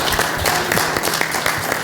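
Audience giving a round of applause at a seminar on technology for seniors, a short run of clapping from a modest crowd with distinct individual claps and a low hum underneath.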